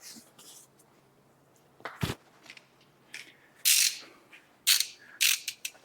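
A hand ratchet tightens a center steering component on a Chevy GMC 2500 Duramax front end, giving several close, sharp bursts of clicking strokes separated by short pauses, with a low hum beneath.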